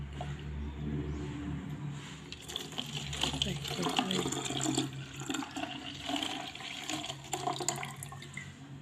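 Mushroom caps being washed in water before going into bottles for white log mushroom spawn, with splashing and running water sloshing under ongoing talk.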